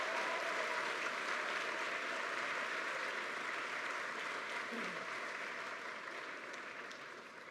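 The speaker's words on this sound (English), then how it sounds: "we want you to give a round of applause to all the nurses, nurse practitioners, PharmDs, social workers, everybody." Sustained audience applause for nurses, nurse practitioners, pharmacists, social workers and caregivers at a hospital survivors' celebration, a steady dense wash of clapping that slowly fades toward the end with no voices over it.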